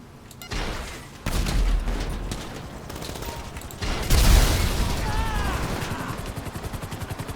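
Gunfire in GTA 5 Online during the Cayo Perico heist, dense bursts of shots and booms with a rumbling engine and a rapid rhythmic chatter, loud throughout and mixed with brief voices.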